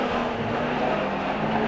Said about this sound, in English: all-powered, all-conquering Holden Tirana coming out of turn number 2, going up the back straight